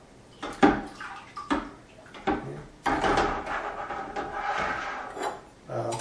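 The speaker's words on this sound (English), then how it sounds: "stir the powder that I've just dumped into the water." Sanitizer powder is stirred into water in a plastic homebrew bucket, giving irregular sloshing, knocking and scraping bumps close up, several sharp clunks among softer swirling splashes.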